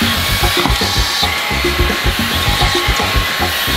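A Xiaomi Shunzao Z11 Max cordless vacuum cleaner with a dust-mite head runs inside a car, a close, steady motor whine broken by rapid bumping and scraping as the head works over the surfaces.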